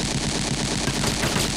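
Dense, continuous automatic gunfire in the tactical video game Silent Storm Sentinels sounds as a rapid, unbroken rattle of shots, loud and close, with no pauses.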